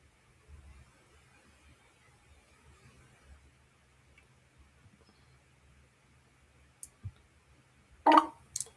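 Near-silent room tone, then a couple of sharp mouse clicks toward the end as a message is sent in a computer app, close and crisp with no speech.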